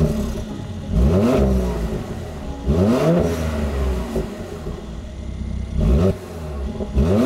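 A Mercedes-AMG engine revs up in three bursts, each rising sharply then falling away, over a steady idle hum, close by.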